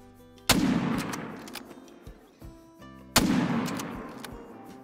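Two sharp, loud shot reports in a hunting video game, aimed at a wildebeest with a bow, each followed by a long decaying tail and separated by a few seconds of quieter ambience.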